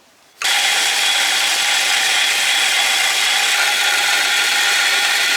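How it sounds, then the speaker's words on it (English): A power grinder bites into a ladder-pattern Damascus steel knife guard, snapping on abruptly and then holding a loud, steady, harsh rasp up close. "Let's grind it out."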